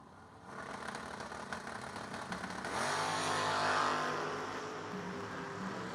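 Drag race cars, a second-generation Camaro and a Chevy II, at the strip: engines idle, then rev up in a swelling roar that peaks and eases off, loud and close.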